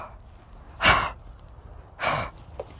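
Pony Indy breathing heavily, two loud, close, forceful breaths, each a sharp snorting exhale about a second apart, over quiet background.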